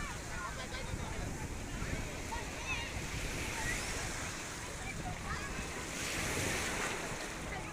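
Sea waves wash steadily onto the shore at Dwarka in a continuous broadband roar, with wind buffeting the microphone throughout.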